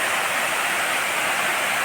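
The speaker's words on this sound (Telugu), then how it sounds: "ఈ వాటర్ ఫాల్ కూడా చాలా సూపర్గా ఉంటుంది" A dense, even roar of cascading water at Ethamanuguda waterfall, loud and close, holding unchanged throughout with no other sounds.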